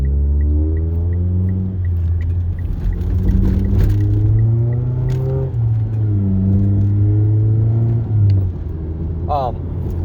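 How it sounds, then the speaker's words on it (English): A 2012 Mitsubishi Lancer SE AWD with CVT rumbles deeply through an aftermarket exhaust, the drone rising and falling as it shifts through paddle-shifted gears, steady and close throughout. "I think my exhaust sounds okay"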